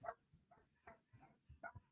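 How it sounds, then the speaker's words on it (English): Several dogs barking in short, irregular bursts somewhere in the background of a home, with sharp yips spaced through the moment, fairly faint. "I know you hear the dogs in the background."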